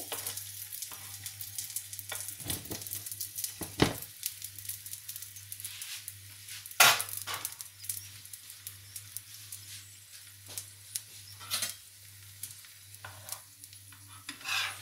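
Stuffed chicken paratha sizzling in oil on a low flame, a soft continuous frying hiss with occasional crackles and a few stirring or flipping clatters, close and steady without talk.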